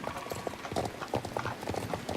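Horse hooves clip-clopping in the video game Star Stable, a steady run of close, crisp hoof beats with faint background voice.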